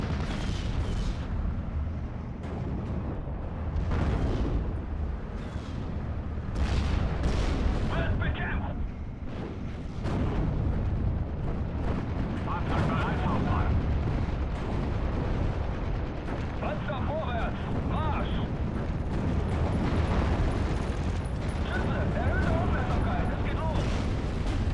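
Rumbling barrages of Panzerwerfer rocket artillery in Steel Division: Normandy 44 on the Cheux map, dense overlapping booms and explosions filling a continuous loud battle din, with a voice talking over it.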